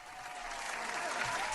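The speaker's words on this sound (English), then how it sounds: "Round of applause for that." A short round of applause carries on steadily as a dense, moderately distant patter of clapping that swells slightly for about a second and a half.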